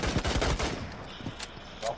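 Gunfire in the shooter game Rainbow Six Siege: a rapid, loud burst of shots at the start that thins into scattered, quieter pops.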